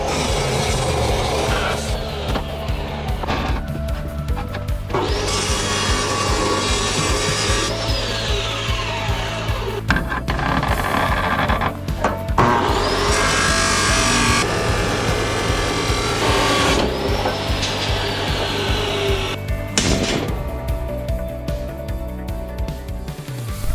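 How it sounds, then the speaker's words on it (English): A power saw cuts through steel rebar pressed against a stump, loud harsh grinding and whining in long continuous passes with short pauses and shifts in pitch. "but the saw is in place, and I'm gonna use this stump to basically push the rebar up against and then just cut down on it."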